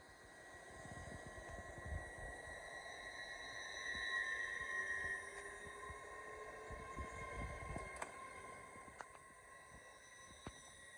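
A class 803 train at York station on the East Coast Main Line passes as a faint, distant whine and rumble over steady background hiss, with brief clicks.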